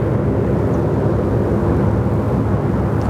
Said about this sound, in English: There's our Emirates 380 rolling out, heading off to Christchurch this morning.